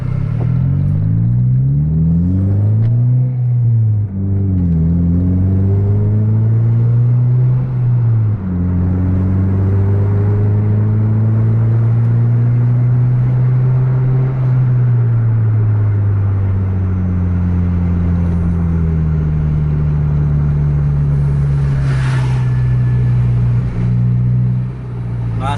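A bus engine labors at full throttle on a Sumatran highway, a loud, steady rumble whose pitch climbs, falls and climbs again through gear changes, with a brief horn-like burst near the end.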